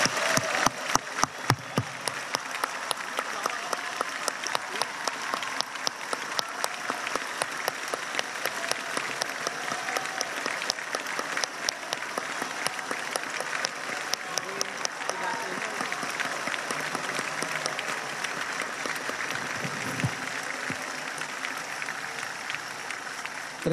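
Steady, dense applause fills the assembly hall at an Indonesian presidential inauguration, a large seated crowd clapping continuously for over twenty seconds with a few sharper claps standing out near the start.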